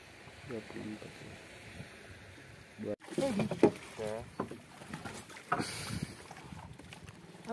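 A boat heads across open water toward an island at night, with wind and water rushing along the hull and voices talking intermittently over the motion.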